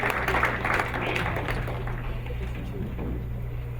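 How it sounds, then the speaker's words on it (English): A conference audience applauds, a broad wash of clapping that swells at first and then thins into scattered claps, with some talking underneath. "Let's give ourselves a hand of applause for making sure that this conference happened."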